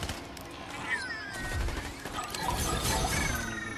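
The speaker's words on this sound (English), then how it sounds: "That's a lot of fucking gunfire back that way." Distant bursts of rapid gunfire from a Fortnite match keep crackling across several seconds, a dense, uneven spray of shots with clattering impacts under the game's ambient noise.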